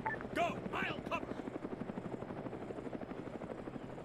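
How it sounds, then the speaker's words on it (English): Helicopter in a military combat video game approaching with a steady rhythmic rotor thump, while voices shout over it at the start. "I've got a helicopter inbound. Helicopter, 300 meters, northeast!"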